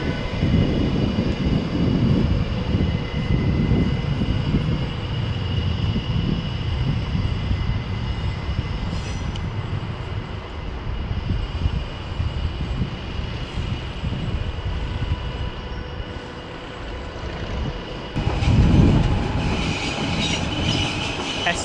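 A train topped and tailed with a Traxx locomotive runs through Köln Hauptbahnhof, its steady rolling rumble and wheel noise continuous and fairly close. A brief louder surge comes near the end. No one speaks.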